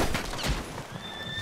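A horse in the video game Red Dead Online gives a short, loud whinny up close, with some faint hoof clatter and game ambience around it.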